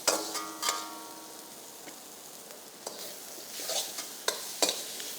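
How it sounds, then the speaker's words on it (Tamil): Mushrooms and green peas sautéing in hot oil, a faint, steady sizzle broken by a few sharp scraping stirs of a spatula against the pan. "கட் பண்ணி வச்சுருக்க மஷ்ரூம் அதில் போட்டுடலாம். அதையும் நன்றாக வதக்க வேண்டும்."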